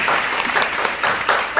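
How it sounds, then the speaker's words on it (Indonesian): Audience applause after a spoken appeal at an Indonesian talk event, a steady wash of clapping hands lasting under two seconds with a few louder swells and no voices. "Ya, tepuk tangan dulu."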